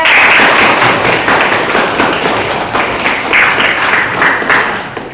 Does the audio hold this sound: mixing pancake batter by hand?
no